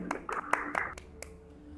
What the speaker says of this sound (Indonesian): Oke, tepuk tangan untuk Mas Aditya ya.